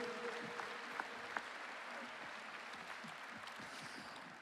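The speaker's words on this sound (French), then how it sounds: "Applaudissements, s'il vous plaît, pour les filles du DMBC." A crowd at a basketball club's season presentation applauds the DMBC girls' team; the clapping is a steady, faint, distant wash of many hands that holds for several seconds with no talk over it.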